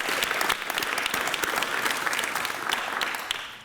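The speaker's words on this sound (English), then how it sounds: "So let's give yourselves a round of applause." A room full of people at a town meeting applauds themselves, a steady wash of many hands clapping close by throughout, fairly loud and continuous with no talk.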